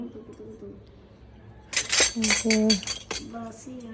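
Metal serving spoons, including a pulao spoon, clink and rattle against each other as they are handled. A burst of several bright ringing clinks comes after a quiet start, with faint voices in the background.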